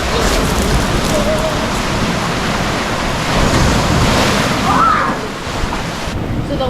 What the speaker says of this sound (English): Some of the bigger waves come crashing through the side there